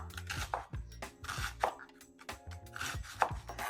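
Knife chopping carrots finely on a cutting board for soup, a series of crisp, close, irregular taps and scraping strokes at a soft level with short pauses.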